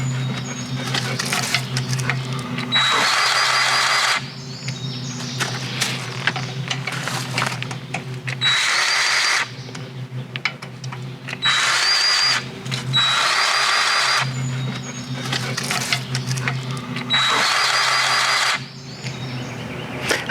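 An electric Hercules grease gun for tractors and equipment runs in repeated bursts of a few seconds each, its whirring motor starting and stopping in a regular rhythm against a steady background hum.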